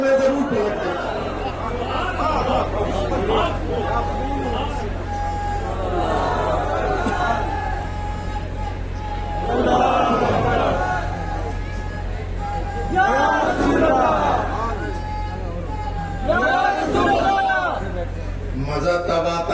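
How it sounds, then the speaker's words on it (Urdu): A large crowd at a religious gathering shouts slogans together in several swelling bursts, rising and falling over a low hum of murmuring voices. "مزہ تب آتا ہے جب نعرے مجمع میں سے لگے"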